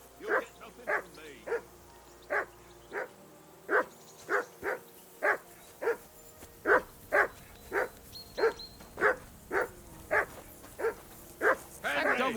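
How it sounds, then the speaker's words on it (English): A dog in Kingdom Come: Deliverance II barks repeatedly at a steady, insistent pace, about twenty sharp barks in a row at moderate distance. "That dog of yours is barking like the devil."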